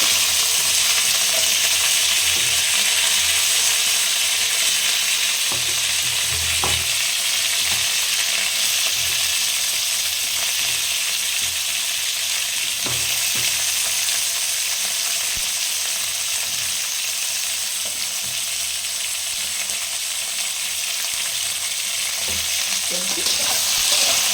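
Boiled potatoes and cauliflower frying in a pan after mustard seeds have popped, a constant bright sizzle with occasional stirring clinks and scrapes, close and steady throughout.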